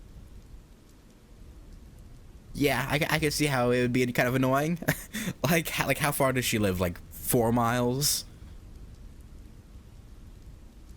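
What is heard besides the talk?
rain in a visual novel game (Witch on the Holy Night)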